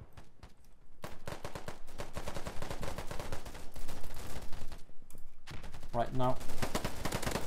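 Rapid bursts of gunfire from an enemy player in a multiplayer shooter game ring out close and loud across the whole stretch, dense volleys with a short lull, while a player speaks briefly over them.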